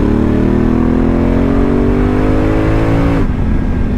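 A loud Honda motorcycle engine with a DCT gearbox revs steadily upward, then drops sharply as it shifts into third gear about three seconds in, continuing at lower pitch.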